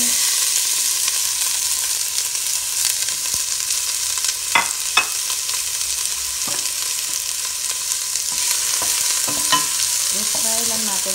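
Vegetables sizzle steadily in hot olive oil in a pan for soup, with occasional sharp pops and scraping stirs over the continuous frying hiss.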